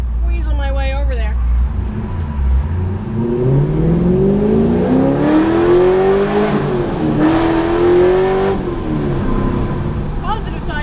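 A loud track car engine revs and accelerates through street traffic, its pitch climbing steadily across gear changes and staying close and dominant throughout.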